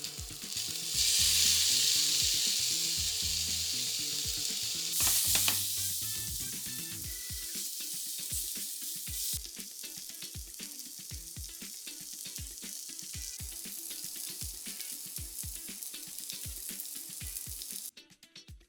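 Mushrooms with garlic, ginger and spring onion whites sizzle in a hot pan, a loud hissing burst at first that eases into a steady crackling fry with scattered tapping of a utensil, close-up with no voices, cutting off near the end.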